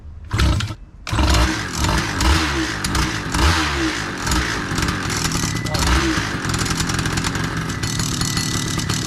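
A PA 125 paramotor engine is pull-started and catches quickly, settling into a loud, close, buzzing run that holds steady throughout, with a voice talking over it at times.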